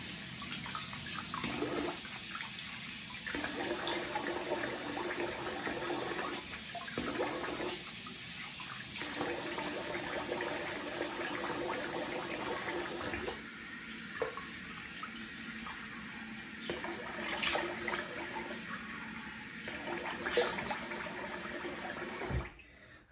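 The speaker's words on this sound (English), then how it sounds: "I'm gonna rinse the face here." Tap water runs steadily at a sink while a man rinses his face after a double-edge razor shave, a continuous close wash with brief splashing breaks and no talking.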